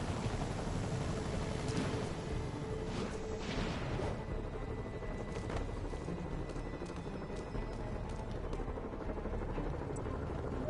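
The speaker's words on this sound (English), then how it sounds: "Bet I can use those helicopters to swing." A helicopter's rotor thrums steadily and loudly throughout in the video game Spider-Man on PS4, with scattered thuds and clatter over the constant low rumble.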